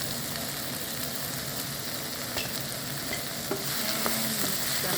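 Chopped green and red peppers stir-fry in a hot pan with a continuous loud sizzle, broken by a few scraping stirs and light clicks near the end.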